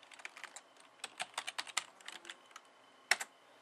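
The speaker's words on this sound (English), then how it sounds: "So you type in your password again." Someone enters a password on a computer keyboard: a quiet, irregular run of close keystroke clicks, ending with one sharper, louder key press.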